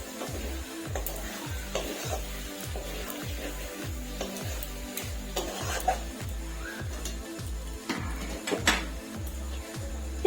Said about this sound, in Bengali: চিকেনটা দিয়ে ভালো করে মিশিয়ে নেব।